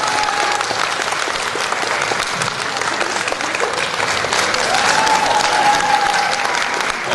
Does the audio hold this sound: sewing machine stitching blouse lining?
no